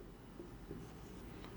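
A pen scratches softly on paper while accounting entries are written, a faint, continuous scratch close by in a quiet room.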